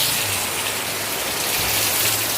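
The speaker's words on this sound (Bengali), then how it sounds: "কীরকম বৃষ্টি হচ্ছে, দেখো ঝমঝম ঝমঝম করে বৃষ্টি হচ্ছে," Heavy monsoon rain pouring outside, a loud and steady broadband wash with no break and no voices.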